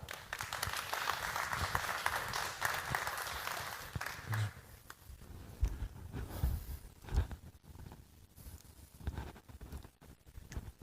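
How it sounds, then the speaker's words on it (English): Applause from a lecture audience welcoming a speaker, scattered and fairly faint, tapering off into quieter rustling and handling noises. "please give him a warm round of applause"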